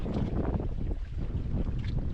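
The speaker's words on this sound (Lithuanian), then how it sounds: "Pažiūrėsim, šiandien toks vėjukas nemažas." Strong wind blows across the Kaunas reservoir near Butiškės, roaring steadily and buffeting the microphone without a break.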